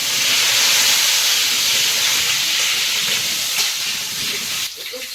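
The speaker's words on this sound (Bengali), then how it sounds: "একটু তেল দিয়ে দিচ্ছি, আলুটা ভেজে নেবো" Potatoes fry in oil in a wok in a Sundarbans village kitchen. A loud, close, continuous hiss fades somewhat near the end.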